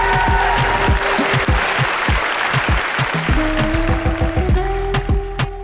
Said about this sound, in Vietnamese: chúng ta dành một tràng pháo tay thật nồng nhiệt để chào đón những người đẹp